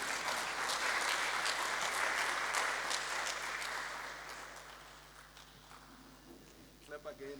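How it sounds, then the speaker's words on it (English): Conference audience applauding to welcome a professor at a national biennial conference, strong steady clapping that gradually fades, giving way to a few footsteps and a voice near the end. "Clap again until she..."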